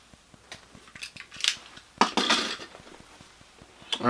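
Shank being cut out of an Adidas Forum 84 sneaker: close, sharp snipping and cutting clicks, then a louder crunching tear and rustle of the shoe material, with no talking.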